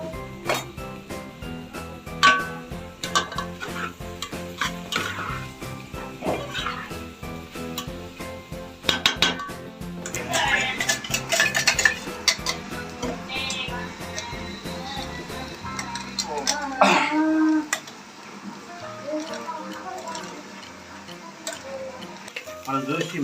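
Mutton is stirred in a pot with a ladle, giving repeated metallic clinks and scrapes over a soft sizzle, close by, while a person talks throughout.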